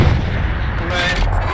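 A tank gun firing in the World War II shooter Hell Let Loose, a loud, dense boom with a rumbling low end that fills the whole short moment, with no break or quiet.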